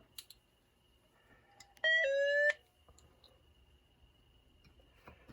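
A short, clean tone from a tone generator sounds once through the speaker of a Grundig Yacht Boy 400 radio for about half a second, stepping slightly in pitch, amid faint clicks and quiet background.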